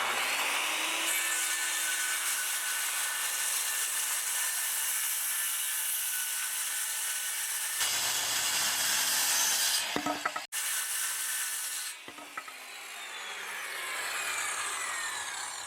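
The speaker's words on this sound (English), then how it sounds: "The end is trimmed to size using a circular saw." A circular saw cuts a wooden shelf board to length, its loud, steady whine and rasp running for several seconds before briefly stopping and starting again, then winding down, close up with no talking.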